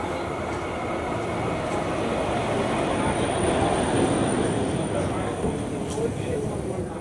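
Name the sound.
tram ride in Germany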